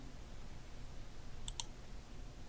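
Two quick, faint mouse clicks in close succession, pressing an OK button in Excel against a quiet room hum with no talking.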